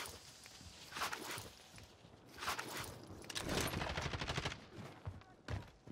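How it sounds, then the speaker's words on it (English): Bursts of gunfire in the Call of Duty Warzone battle royale on Rebirth Island, likely from a DMR 14 or Mac-10, with several loud, clustered volleys and shots scattered across a few seconds and no talking. "I'm taking fire."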